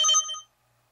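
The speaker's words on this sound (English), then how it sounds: "I got a phone call." Telephone ringing, a short bright electronic ring burst that stops abruptly and leaves silence after.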